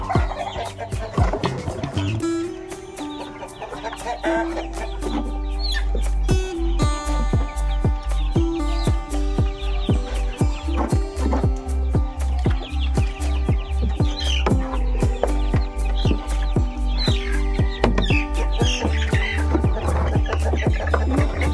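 A flock of chickens clucks and cackles nearby, busy and overlapping, with steady rhythmic thumps running underneath throughout, as they come to eat black soldier fly larvae.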